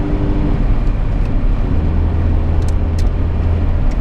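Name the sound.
1995 Honda Accord 2.0 petrol car driving in city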